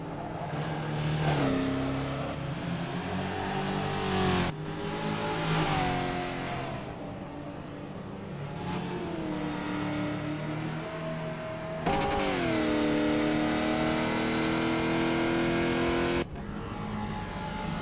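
Race car engines in a racing video game rev hard around a tight 1.5-mile track, a steady loud whine with rising pitch sweeps and sharp cuts between bursts, no talk over it.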